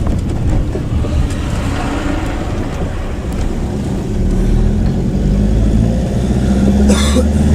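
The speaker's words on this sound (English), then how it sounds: "got a tractor here" A tractor engine rumbles nearby in a low, steady drone that swells slightly toward the end, loud and continuous.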